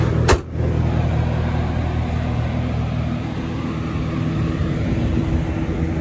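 A supercharged V8 in a 2010 Cadillac CTS-V idles steadily and close by, a constant low droning hum after a brief click near the start, with no talking over it.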